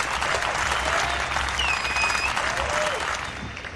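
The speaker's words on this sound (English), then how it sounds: "everybody should give him a round of applause" Crowd applause at an outdoor rally on the Lansing Capitol steps, a steady wash of many hands clapping with a few whistles over it, tapering off toward the end.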